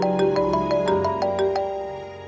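A phone ringtone plays a quick repeating electronic melody of bright, regularly spaced tones that fade slightly toward the end, loud and close, with no talking over it.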